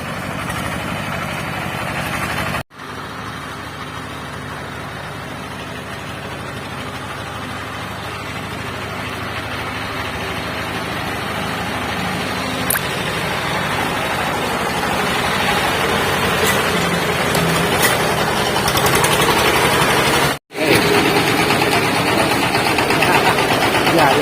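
A small engine of a modified ride-on tractor runs steadily for the whole stretch, a rough mechanical drone that grows slightly louder, with two brief cutouts.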